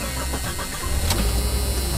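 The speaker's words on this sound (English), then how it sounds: "And there goes the engine." A 1991 Jeep Cherokee engine cranks and catches, settling into a rough, steady idle heard up close with no talking.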